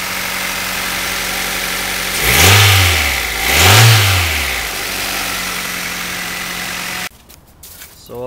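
Honda CR-V engine needing a new transmission, idling steadily close by in the engine bay, with two quick revs that rise and fall before it cuts off near the end.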